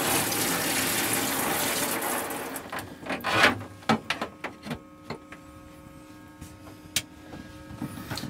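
A camper van shower unit in an Autocruise Vista runs water close by, a steady hiss that stops after a few seconds, leaving scattered clicks, drips and knocks.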